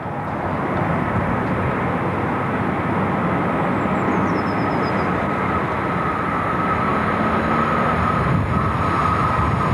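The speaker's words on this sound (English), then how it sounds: "the same loco rushes through Gofeld on the 24th of April 1997." A DB Class 103 electric locomotive rushes through a station, a loud, steady roar of rushing wheels and air that holds for about ten seconds with a faint high whine on top and no talk.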